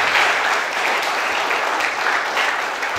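An audience at an international seminar on inculturation in Catholic missions claps for the speaker, a dense, steady wash of many hands clapping at moderate volume for the whole stretch.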